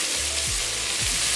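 Garlic, onions and pepper sizzle in a hot pan during sautéing, a steady close frying hiss broken by a couple of low scraping stirs.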